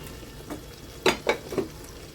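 Cauliflower kofta curry masala fries in oil in a pan, a soft bubbling sizzle broken by three or four sharp scraping stirs of a spoon against the pan.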